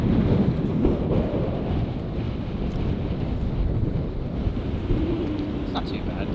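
Strong wind at the Windy Gap on the Northern Ireland coast buffets the microphone in a continuous, loud, rumbling roar. Faint voices are mixed in.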